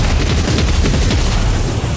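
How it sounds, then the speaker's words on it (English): Rapid bursts of gunfire crackle continuously in Warhammer 40,000: Rogue Trader, dense and loud with heavy low booms, a game firefight with no pause. "And gunshots."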